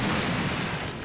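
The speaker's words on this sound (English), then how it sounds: "You get a grenade launcher, which launches napalm" A napalm grenade launcher fires in the PSP first-person shooter Coded Arms, a dense, roaring burst of fiery noise that fills the short moment loudly.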